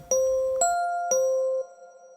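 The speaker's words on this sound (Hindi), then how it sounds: "तभी घंटी बजी" A doorbell chimes in a two-tone ding-dong pattern, rung twice in quick succession, clear and ringing out before fading.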